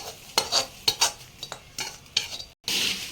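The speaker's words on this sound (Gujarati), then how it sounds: "બધું મિક્સ કરી દઈશું વઘારને બધું" A spoon stirs hot spiced oil tempering, with red chilli powder, into puffed rice chevdo, making a series of quick scraping, rustling strokes with a light sizzle, close and alone.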